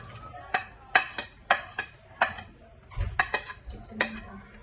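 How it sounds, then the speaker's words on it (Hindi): Onions tipped into hot oil in a kadai while cooking restaurant-style chicken macaroni: a series of close, sharp clinks and scrapes of a utensil against the pan, with light sizzle underneath. "ये देखिए मैंने कढ़ाई में ऑयल डाला है, तो अब इसको इसके अंदर प्याज डालेंगे। ये देखें प्याज डालें"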